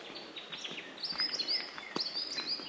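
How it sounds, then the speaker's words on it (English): Small birds chirp and whistle in short high calls along a bushwalk down to Rollasons Falls on Mount Buffalo, several overlapping phrases at moderate distance over a soft outdoor background. "I like the bird sounds"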